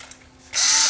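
A JoustMax cordless screwdriver used in drill mode spins up abruptly after a quiet moment and runs with a loud, steady whine.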